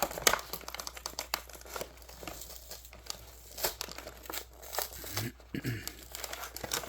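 Plastic packaging crinkles and tears in repeated bursts as a TMNT Turtles of Grayskull Raphael action figure is worked free, close and fairly loud.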